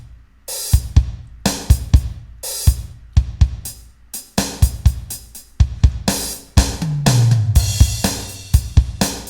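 A programmed MIDI drum beat with added room ambience and a snappier EQ'd snare plays alone, punchy kick and crisp snare hits in a steady groove with a tom fill near the end.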